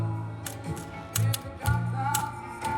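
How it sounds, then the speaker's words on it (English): On an Elton John pinball machine, the animated Elton figure taps at its keyboard, making sharp, irregular mechanical clicks and ticks over a steady machine hum. "We can see Elton is getting antsy as he's tapping away on his"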